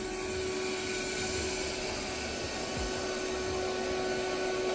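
An Erabros LS1 robot vacuum spot-cleans spilled cereal from a floor, giving a steady, fairly quiet motor whir with a constant tonal hum and occasional faint rattles, with no talk.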